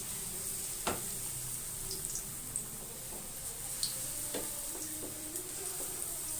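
Pakoras frying in hot oil, a steady soft sizzle with scattered pops and a few sharp clicks of a utensil, close and moderately quiet throughout with no talk.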